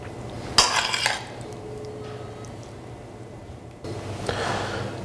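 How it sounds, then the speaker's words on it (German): Potato-chard ragout being spooned onto a plate, with a short burst of utensil clinks and scraping against the dish, then a quieter pause and a second stretch of soft clattering. "Ich richte nun das Essen an, das Kartoffel-Mangold-Ragout."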